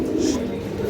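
A racer pigeon gives a low, throaty coo at close range, a short continuous call with no voices over it.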